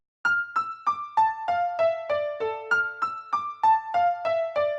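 Piano plays a simple descending melodic pattern, evenly spaced notes stepping down and repeating, from a remake of a beat; clean, alone, no talking.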